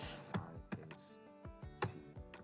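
Keys tapped on a computer keyboard, a handful of quiet, separate clicks in an irregular rhythm, close and faint.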